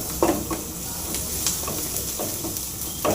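Cashews fry in a pan for Pongal, giving a dense, close sizzling hiss with a few soft stirring taps scattered across the short stretch. No one speaks.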